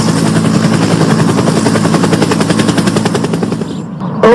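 Police helicopter effect in an animated arrest scene, a loud steady rotor chop that runs close and constant, fading slightly just before a brief final noise, with no voices.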